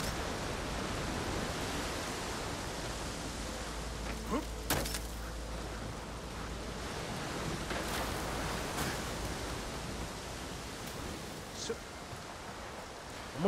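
Steady roaring rush of water in Ghost of Tsushima, a constant broadband wash filling the whole stretch, with a few faint sharp clicks and thumps on top.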